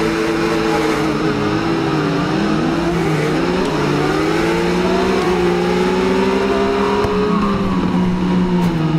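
A 2014 Triumph Street Triple 675R motorcycle in RIDE 5 launches hard under launch control, its engine note climbing in loud, continuous rising revs that hold steady up close for the whole stretch.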